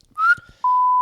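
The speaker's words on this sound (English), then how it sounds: "We need the sound effect of his whistle" A brief rising whistle chirps, followed by a short pause and then a steady, bright single-pitch whistle tone held to the end.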